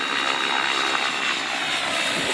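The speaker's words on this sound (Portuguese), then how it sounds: "observe que não tem problema de se pilotar um helicóptero rádio controlado" A radio-controlled model helicopter flies steadily nearby, its continuous high-pitched rotor and motor whine filling the air without interruption.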